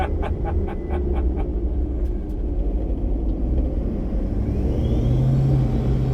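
A 1985 Chevrolet Scottsdale pickup fitted with a Duramax LB7 diesel drives along rural rally-style roads, its engine a loud, steady low rumble throughout, rising toward the end, with no talk.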